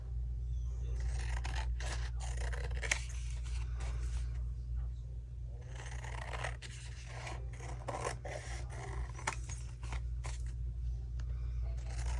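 Scissors cutting index card pieces up close, repeated crisp snipping and scraping strokes in irregular bursts over a steady low electrical hum.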